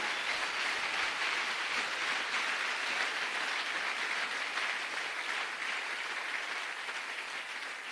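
Steady applause from a large church convention crowd, continuous clapping that fills the space for several seconds, slowly easing off toward the end, with no talk.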